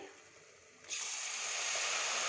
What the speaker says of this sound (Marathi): अर्ध फुलपात्र पाणी टाकले मी